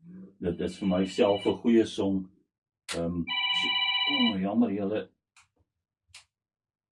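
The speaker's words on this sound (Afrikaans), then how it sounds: "Jammer my foon wat ek nou nooit afgesit het nie" A mobile phone rings during a radio talk show, a steady electronic ringtone of about two seconds cutting in over and between a woman's speech.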